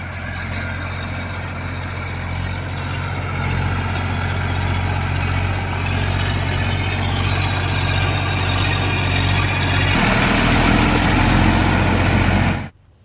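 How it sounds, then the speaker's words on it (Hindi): A tractor engine runs steadily through field ploughing after rain, a loud low droning rumble with steady harmonics that shifts in tone near the end before cutting off abruptly. "बारिश के बाद खेतों में ट्रैक्टर लेकर विधायक उतर गए और जुताई का काम करते हुए वो नजर आए।"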